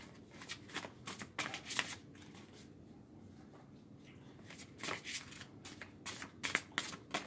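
A big deck of cards being shuffled up close, riffling in repeated bursts with a quiet pause midway, no talking.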